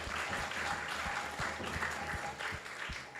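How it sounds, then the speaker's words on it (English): Audience applause at a Vaishnava devotional talk, a steady wash of many hands clapping that holds at an even level throughout, with some low thumps beneath it. "let's give a big round of applause to everyone who has joined us"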